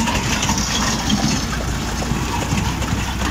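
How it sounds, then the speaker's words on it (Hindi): A tractor-mounted soil loader runs while loading soil, giving a loud, continuous engine drone mixed with crunching, gritty rattles of earth, close and steady throughout, with no talk. "ये देखो दोस्तों 60 क्विंटल मिट्टी कितनी जल्दी लोड होगी।"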